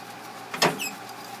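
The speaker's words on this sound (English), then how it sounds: "Now we're going to lower the car onto the jack stand." A car jack lowering a 1995 Ford Explorer onto a jack stand gives one brief whirring, scraping release in the middle, alone over a quiet background.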